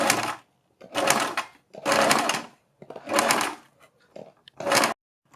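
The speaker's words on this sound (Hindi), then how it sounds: "इस तरह से नेक की शेप में हम इसको सीलते चले जाएंगे।" A sewing machine stitches along the curved edge of a neck design in bursts, five runs of fast motor whirring broken by short pauses.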